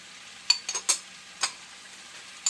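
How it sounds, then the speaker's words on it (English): Diced mushrooms are tipped into a hot pan for gravy, giving a few quick soft thuds and brief sizzling bursts over a faint background hiss, close and quiet, with no talking. "Put your diced mushrooms in there."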